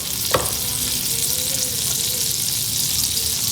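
Amul butter with a little olive oil sizzling in a pan, a close, steady hiss with a faint light knock near the start and no talking.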